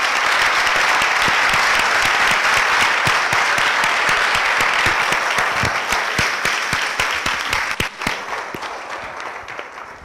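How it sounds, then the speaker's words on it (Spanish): A conference audience applauds at the end of a talk, dense sustained clapping from a large crowd that holds steady for several seconds and then gradually thins and fades. "Aplauso entonces, por favor."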